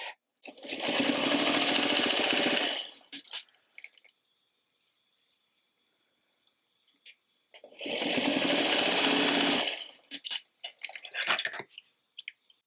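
A sewing machine stitches a fabric bowl cozy in two bursts of rapid, even whirring, each about two seconds long and close up, separated by quiet gaps with small handling clicks.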